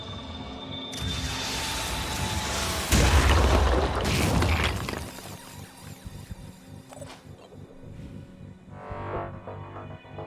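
Rocket blasts in the tactical shooter Phoenix Point, a heavy boom bursting in around the three-second mark with a short rumbling tail, followed by quieter mechanical game sounds and a softer second burst near the end.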